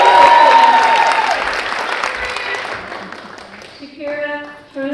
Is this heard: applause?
yes